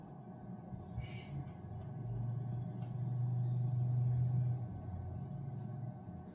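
A video game vehicle engine drones steadily during an esports tournament match, a low rumble that swells louder in the middle and then eases off, with faint clicks above it.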